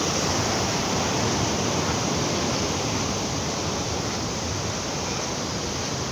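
River rushing after a hurricane in the hills of St. Andrew, a dense, loud, unbroken roar of fast water throughout.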